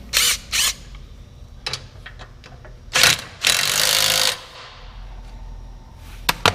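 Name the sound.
tightening mower deck striper bolt with a wrench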